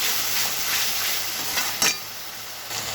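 Ginger, garlic and onion paste sautés in a pan with a continuous close sizzle and hiss, a sharper stirring scrape standing out near the middle.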